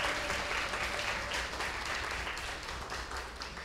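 Audience applause greets an orchestra director being called to the stage at an outdoor concert, a dense, steady wash of many hands clapping that fades slightly toward the end.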